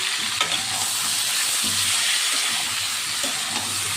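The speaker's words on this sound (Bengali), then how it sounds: "আমি আলু আলুটাকে একটু ভেজে নিই এবার আমি এর মধ্যে দুটো মাঝারি সাইজের টমেটো নিয়েছিলাম সেটা দিয়ে দিলাম" Potatoes and two medium tomatoes fry in a pan, giving a steady close sizzle with occasional stirring scrapes and no talk.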